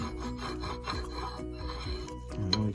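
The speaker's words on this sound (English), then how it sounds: "And it only cuts one way on the rasp. But it does a very good job." A hand rasp files soapstone in quick back-and-forth strokes, a close, gritty rubbing that repeats in an even rhythm with no talk.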